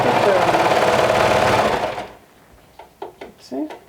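A serger sewing machine stitching fabric runs in a loud, fast, steady whir for about two seconds, then stops abruptly as a voice speaks nearby.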